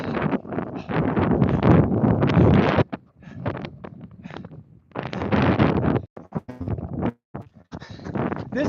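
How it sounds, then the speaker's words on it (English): Strong wind buffets the microphone outdoors during the 26.2-mile Bataan Memorial Death March, a loud rushing roar in long gusts broken by brief lulls. "Oh yeah, come on, wind."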